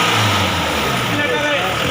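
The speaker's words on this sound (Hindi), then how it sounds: "और ये डीजल इंजन स्टार्ट हो गया बोलेरो गाड़ी का।" Diesel engine of a Bolero vehicle running at idle, a dense, rough, steady rumble heard close up throughout.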